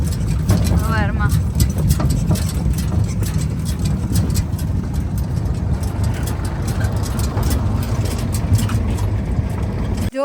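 A farm tractor's engine rumbles steadily and loudly at close range the whole way through, carrying people out to a cotton field, with faint voices partly buried under the drone.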